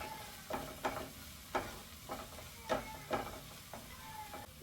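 Mushroom masala stirred in a pan, a regular series of soft scraping strokes about every half second over a faint, quiet sizzle.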